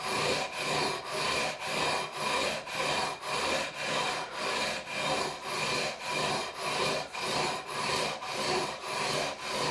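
Guitar frets on a 1998 Ibanez RG505 are sanded with 400 grit paper in even, rhythmic back-and-forth strokes, a close, steady rasping that repeats about twice per second with no voices.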